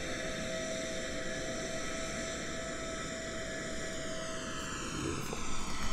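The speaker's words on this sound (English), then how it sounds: "V1. Rotate. V2. Positive rate. Gear up. Beautiful takeoff." A steady, droning roar of airliner engines builds during takeoff in the Roblox game Velocity Flight Simulator, with a whining tone sliding through it; a constant broadband rush fills the sound from start to finish with no talk.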